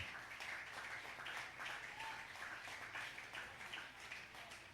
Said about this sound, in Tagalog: Sige, tuloy natin ang palakpak, mga kapatid.